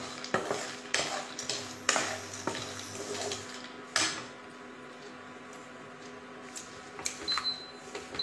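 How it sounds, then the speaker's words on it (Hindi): Almonds are sautéed on a low flame, with a ladle scraping and tapping against the pan in irregular strokes over a soft, quiet sizzle, close and fairly faint. "इसको हम धीमी आंच पे सौते करेंगे।"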